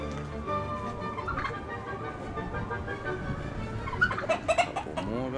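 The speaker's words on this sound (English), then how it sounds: "There's the red jungle chicken." A flock of jungle fowl and other chickens, including red jungle fowl, clucks and chatters steadily at close to mid range, with a few sharper calls near the end.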